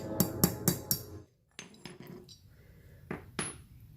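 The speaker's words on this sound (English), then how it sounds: "One side down, one more to go. Same process." A bearing race is tapped into a trailer hub to seat it, giving four quick sharp metallic knocks, a short pause, then several lighter scattered taps and two final clinks, close and alone.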